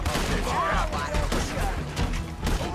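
Gunfire in Red Dead Redemption 2 during a shootout: a continuous loud barrage of overlapping shots and game noise, with no clear gaps throughout.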